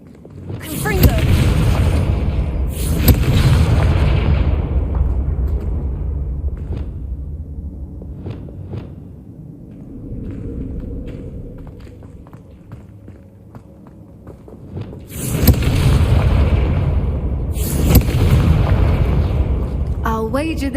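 Loud booming bursts from the Confringo spell in Hogwarts Legacy on PS5 open the scene, fade into quieter rumbling, then return as two more heavy blasts near the end.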